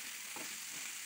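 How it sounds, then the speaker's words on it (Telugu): Onions, carrot and capsicum fry and get stirred in a pan for samosa filling, giving a steady close sizzle with faint scraping stirs and no talk. "ముందుగా కట్ చేసుకున్న ఉల్లిపాయలు, క్యారెట్, క్యాప్సికమ్ను కూడా ప్యాన్లోకి యాడ్ చేసుకొని బాగా కలుపుకోవాలి"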